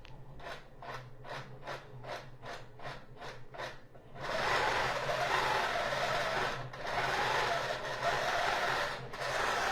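A computerized quilting machine makes a run of evenly spaced clicks, then resumes stitching with a steady, dense mechanical whir that carries on at close range.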